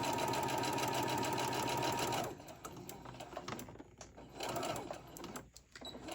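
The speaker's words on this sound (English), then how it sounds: "Now let's get back over to the sewing machine" A sewing machine stitches fabric candy cane ornaments with a fast, even mechanical whir, loud and close at first, then easing into slower, uneven bursts of stitching.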